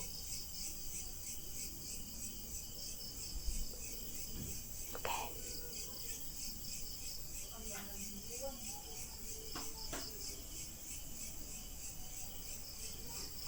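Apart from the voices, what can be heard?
crickets chirping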